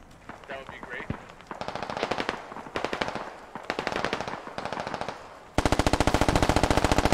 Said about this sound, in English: Razor firing up the hill.